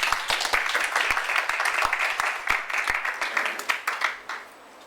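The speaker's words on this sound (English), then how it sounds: "Give a hand clapping to the Lord Jesus." A church congregation claps hands in praise, many palms striking in a loose, fast rhythm with distinct sharp claps over a crowded wash, tapering off at the end; nearby and without talk over it.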